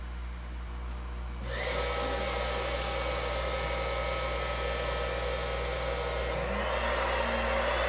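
A suction vacuum draws water out of a home aquarium during a gravity water change, switching on after a quiet moment into a steady, loud roaring hiss that holds to the end.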